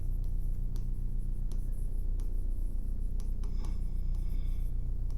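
A pen scratches across paper as a maths equation is written out, with quick strokes and ticks over a steady low hum, close and moderately loud.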